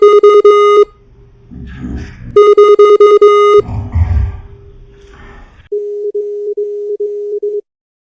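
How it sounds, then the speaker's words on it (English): Morse code tones: a steady, loud electronic pitch keyed on and off in long bursts, separated by gaps with low rumbling noise, ending in a softer, slightly wavering tone. "I know Morse code."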